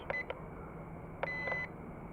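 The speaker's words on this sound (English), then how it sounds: "Headless mode, I think it clicks, beeps twice." Two short electronic beep sequences from a FEILUN FX176C1 drone controller switching headless mode, each a pair of quick high chirps, faint against a quiet hiss.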